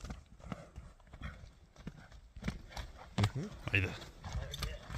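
A large horse walks with clip-clopping hooves on a firm surface, a steady irregular patter close by while people talk over it.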